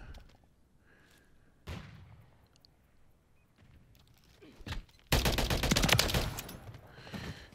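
Rapid gunfire from a Holger 556 rifle in the video game Modern Call of Duty: MW3, scattered single shots early and then a loud, dense burst of automatic fire near the end, with no talking.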